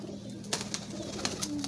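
Soft coos of Imam Deen pigeons sound close by in a quiet space, a few low murmuring calls with faint rustling around them.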